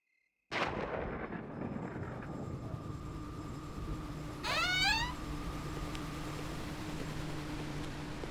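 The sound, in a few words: thunder rumbling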